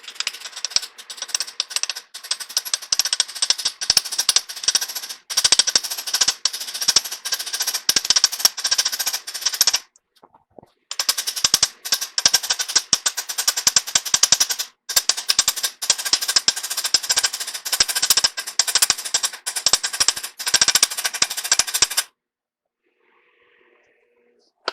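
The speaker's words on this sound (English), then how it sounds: "let's grab a hammer and find out" A hammer tapping a part into a big horizontal band saw wheel: dense, rapid metallic strikes in long bursts, close and sharp, broken by two short pauses and ending in quiet.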